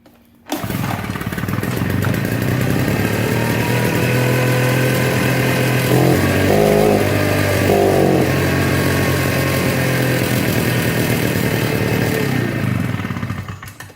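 A small engine with the choke on fires up after a brief crank and settles into a loud, steady, buzzing idle close by, running evenly for about thirteen seconds before cutting off.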